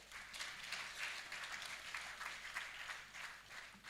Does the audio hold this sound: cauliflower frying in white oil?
no